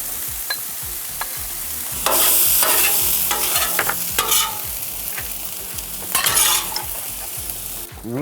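Steak frying on a flat iron griddle outdoors, a steady loud sizzle with bursts of scraping and stirring from a spatula, no talking.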